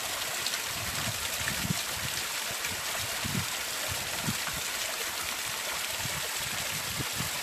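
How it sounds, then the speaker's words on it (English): Fresh spring water on Mount Wellington runs steadily into a container, a constant close rush with small gurgles and splashes, continuous and unbroken throughout with no one speaking. "I am going to fill up my container with fresh Mount Wellington spring water"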